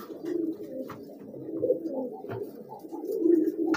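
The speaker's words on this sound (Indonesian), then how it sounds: "Terus di situ juga ada tuh merpati kolong juga." Feral pigeons cooing close by, a series of soft, low, throaty coos repeating in uneven phrases, with a few faint background clicks and no talk over them.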